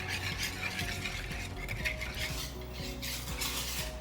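Paneer marinade with ginger garlic paste, lemon juice and kasuri methi being stirred in a bowl, a soft continuous scraping and clinking of a spoon against the dish, close and without talk.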